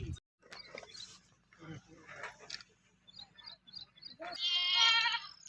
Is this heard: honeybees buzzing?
no